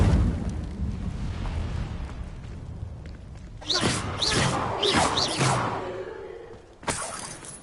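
An Incendio fire spell cast in a Hogwarts wizarding game bursts out as a series of crackling, whooshing flares, several flashy blasts in a row, then one final sharp burst.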